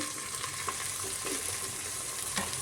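Chopped tomato frying in hot oil in a pan for chicken biryani, a steady close sizzle with soft stirring scrapes throughout.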